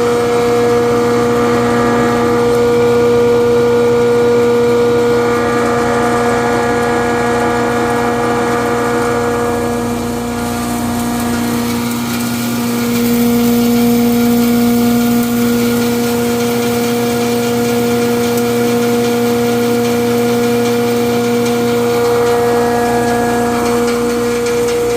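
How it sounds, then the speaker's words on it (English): A hammer mill fitted with a 1/32 screen runs loud and constant, grinding limestone with a steady mechanical drone and whining tones that shift slightly as material feeds through, no voices. "We have the hammer mill fired up with the 1/32 screen"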